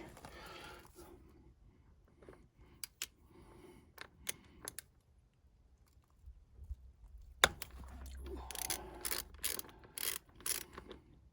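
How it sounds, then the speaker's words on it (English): A Torx T50 tool unscrews the oil filler cap on a 2021 BMW R1250 GS Adventure motorcycle, giving short bursts of close metallic ratchet clicking with quiet pauses between them. "the Wonderlic oil cap, which comes off with a Torx T50"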